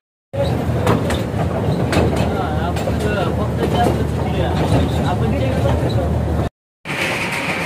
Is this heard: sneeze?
no